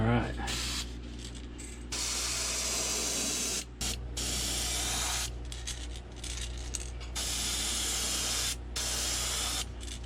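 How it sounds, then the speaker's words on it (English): Airbrush spraying paint onto a jerkbait fishing lure in bursts, a steady airy hiss that starts and stops several times with a low compressor hum underneath. "we're starting off with the master airbrush just to see how everything goes"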